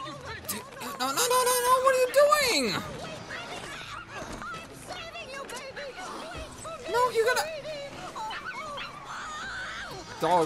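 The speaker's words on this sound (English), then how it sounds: "Dog looks like he's a zombie already." A zombie dog in the Dead Rising video game barks, yips and whimpers in a frantic stretch, loud and close at first, then mixed with game noise and voices through the rest.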